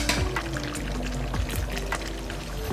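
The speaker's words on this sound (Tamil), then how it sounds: "அதையும் அதில் ஊற்றிடலாம்." Ground coconut paste poured into a pot of chicken curry, a close, continuous wet glugging and trickling pour with soft splashes throughout.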